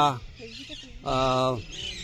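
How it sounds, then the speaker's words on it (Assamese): Shrill, harmonic parakeet calls ring out from trees on Sri Surya Pahar hill in two bursts, a short one then a longer sustained squawk, with fainter chattering calls between and after. "বনৰীয়া চৰাইৰ মাত"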